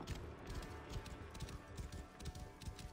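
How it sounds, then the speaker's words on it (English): Galloping horse hooves in Assassin's Creed Origins, a steady run of muffled clip-clop beats repeating through the scene under game ambience. "That horse."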